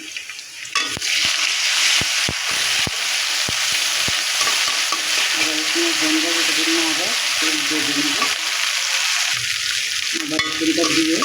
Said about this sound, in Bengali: পেঁয়াজটা হালকা করে ভেজে নিয়েছি পরিমাণ মতন আদা রসুন বাটা দিয়ে দেবো